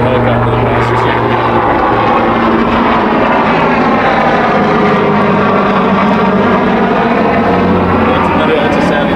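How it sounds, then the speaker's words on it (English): A helicopter drones loudly and steadily overhead for several seconds, its rotor and engine noise filling the scene while someone talks over it. "it's the wait for the helicopter to pass or something."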